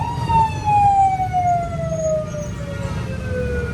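An ambulance siren wails in a traffic jam, a loud, close, falling tone sounding steadily over the low rumble of vehicle engines.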